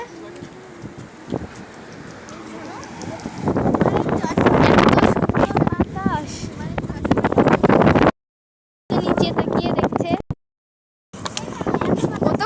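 Strong wind buffets the microphone on the Rupsha bridge, a loud rushing roar that builds midway. People talk over it, and the sound cuts out briefly twice.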